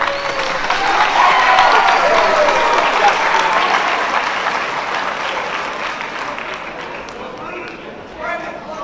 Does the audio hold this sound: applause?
yes